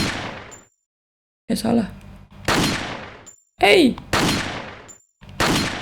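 Separate loud gunshots in Resident Evil 4, each a sharp blast with a ringing tail, spaced by short silences, with a voice speaking briefly between shots.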